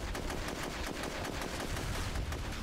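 Rapid automatic gunfire in the video game SOCOM II, dense overlapping bursts of shots at a steady loud level with no pauses.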